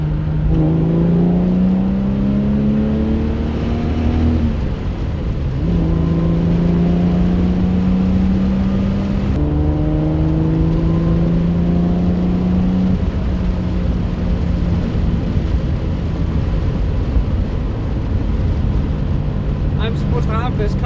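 A Jaguar E-Type Reborn's engine pulls hard in third gear, its loud rising drone climbing in pitch in repeated runs, with brief dips between pulls as revs drop, steady and close throughout.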